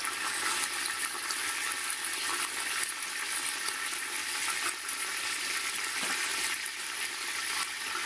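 Garlic frying and being stirred in hot oil for a vegetable pulao gives a steady, soft hissing sizzle with faint scraping from stirring, close but quiet and continuous.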